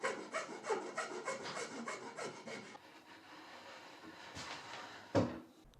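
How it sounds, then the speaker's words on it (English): Steady rhythmic rasping of a round file on wood, removing a ridge inside a hole, quick repeated strokes up close that slow and soften, ending with a sharp knock. "I'm using a round file just to remove that ridge."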